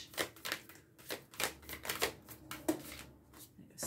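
Tarot cards being shuffled by hand, a quick run of close, crisp papery riffles and taps in an uneven rhythm, with no talking.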